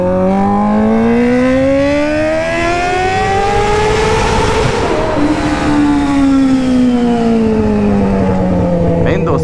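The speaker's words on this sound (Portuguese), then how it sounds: "Uma moto que berra, viu?" A Honda Hornet motorcycle with a straight pipe revs loudly up close, the engine note climbing and then falling in one long pull, with a siren-like wail and voices in the background.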